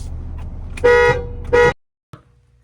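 A car horn in a traffic video game honks twice in loud, flat blasts, each lasting about a quarter second, followed by a short click and then quiet.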